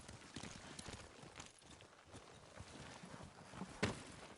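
Horses clip-clopping in Ghost of Tsushima, a quiet, uneven patter of hooves on ground that stays faint throughout, with one sharper knock near the end and no voices.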